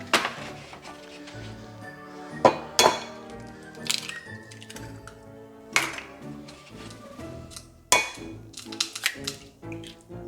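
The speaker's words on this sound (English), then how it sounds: "To crack an egg, you just crack it on the side" Eggs cracked one after another against the side of a bowl, giving several sharp, close cracks spaced through a stretch of quiet kitchen sound.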